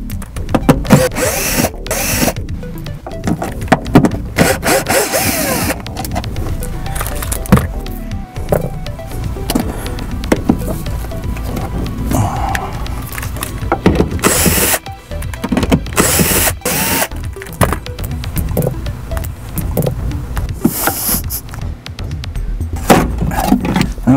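Power drill backing Torx 25 screws out of a car interior panel during a subwoofer install, a continuous busy whir with repeated bursts and short pauses, fairly loud and close.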